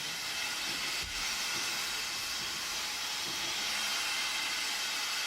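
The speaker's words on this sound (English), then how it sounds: "In summertime, ScotRail uses a special steam train" A steady, broad hiss of escaping steam from a ScotRail steam train in Scotland fills the scene, even and continuous, with faint low rumbles from the train underneath.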